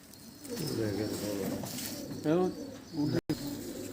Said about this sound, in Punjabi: ਇਹ ਕਿਹੜਾ ਕਬੂਤਰ ਆ ਬਾਈ